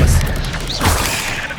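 An Expelliarmus spell fires in Hogwarts Legacy, a short crashing burst with a bright zap that lands inside a loud wash of game combat noise.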